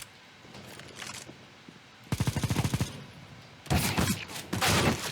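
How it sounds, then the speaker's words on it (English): Light machine gun fire in a video game: two loud bursts of rapid automatic shots, the first rattling steadily for about a second, the second heavier and more sustained, after fainter background game noise. "My kind of gun. My kind of gun. The LMG."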